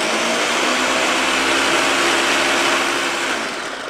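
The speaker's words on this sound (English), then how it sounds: "So we're gonna stick it in the blender," A blender runs steadily, blending oat flour batter with vanilla; a loud, continuous whirring drone close by that eases off slightly near the end, with no talking.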